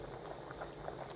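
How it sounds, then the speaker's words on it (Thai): A pot of fish and lotus stem curry bubbles on the fire, a low, soft, continuous boil with gentle popping bubbles, faint and close. "นี่เดือดสุกเรียบร้อยทุกอย่าง"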